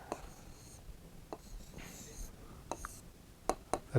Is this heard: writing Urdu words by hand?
yes